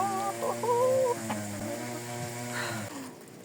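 A hen cackles after laying eggs: a run of close, loud, nasal clucks and drawn-out squawks against a faint background hum.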